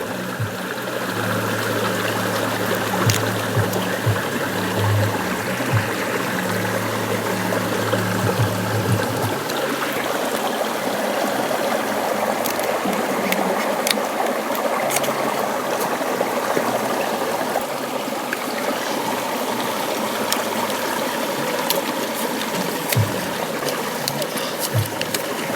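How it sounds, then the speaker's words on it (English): A small stream of water flows steadily outdoors in a bush setting, a continuous close trickle and splash that carries on for the whole stretch, with a low pump-like hum in the first part that stops partway through. "It's one little stream, you know."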